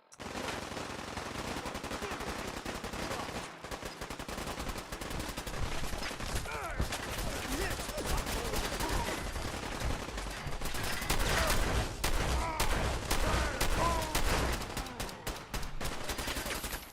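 Dense, continuous gunfire from the Fallout 4 video game, including a shotgun and pistol, rapid overlapping shots and blasts filling the whole stretch at steady high loudness with a busy battle din.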